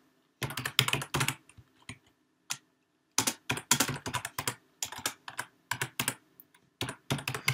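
Code typed on a computer keyboard, close and crisp, in quick bursts of clicking keystrokes separated by short pauses, with no talking.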